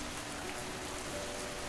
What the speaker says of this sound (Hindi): तभी इतनी तेज बारिश शुरू हुई